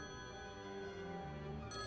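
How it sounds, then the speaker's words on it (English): A telephone on a motel room end table rings steadily in a continuous electronic trill, faint and muffled, with no voices. "The telephone on the end table was ringing."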